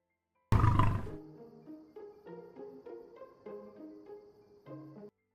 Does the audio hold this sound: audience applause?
no